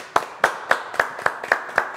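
A few people clap for a singer on a French TV show's live corner, with sparse, evenly spaced claps at about four per second, close and fairly loud, with no crowd roar and no talking over them.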